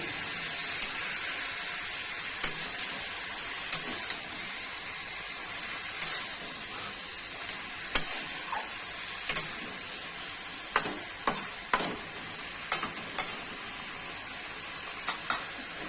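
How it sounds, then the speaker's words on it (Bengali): Spinach curry with potato and eggplant is stirred in a pan over a faint steady sizzle. Irregular sharp scrapes and clinks of the spoon against the pan come close, about a dozen spaced through the stretch. "দেখুন এইভাবে নাড়াচাড়া করতে হবে, একটু নাড়াচাড়া করে ঢেকে দেব।"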